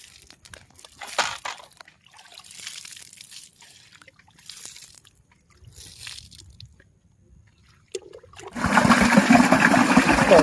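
Water is poured from a bucket onto eggplant plants in a garden, with a soft trickle early on and then a loud, steady splashing pour for the final two seconds.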